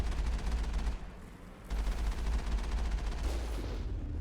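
Gunfire from the PC game Mass Effect rattles in dense, rapid bursts, loud and continuous apart from a brief lull after the first second.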